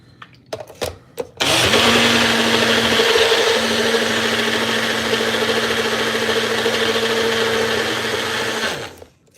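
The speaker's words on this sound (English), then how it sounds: "Then I'll take our blender here." A kitchen blender whirs steadily for about seven seconds while making bulletproof coffee, loud and close, starting after a few clattering knocks and cutting off abruptly at the end.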